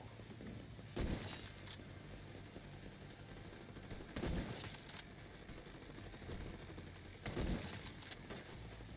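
Gunfire in The Division 2, three separate bursts of shots about three seconds apart, each loud and crackling over a steady background of game ambience, with no talk.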